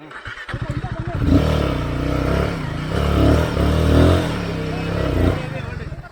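A motorcycle on an off-road hill trail at Hosahalli Betta near Sakleshpura sputters to life, then revs in several rising surges before settling to a rough idle, loud and close, with voices faintly underneath.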